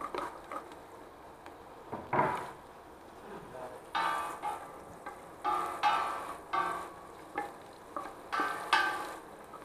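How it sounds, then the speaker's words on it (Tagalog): Chopped garlic and onion sautéing in a pan for pancit gisado: a soft steady sizzle broken by repeated scraping stirs, each rising in a short rhythmic swish, close and fairly quiet with no voices. "So, pwede na natin ilagay itong bawang."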